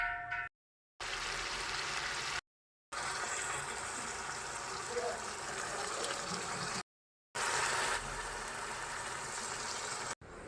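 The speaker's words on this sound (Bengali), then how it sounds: "পেস্ট করার পর কড়াইয়ের মধ্যে যে তেলটা ছিল সেই তেলটার মধ্যে মশলাটা আমি কষতে দিলাম" Spice paste with chopped tomato, salt and turmeric frying in oil in a wok, a continuous close bubbling sizzle broken by a few brief silent gaps.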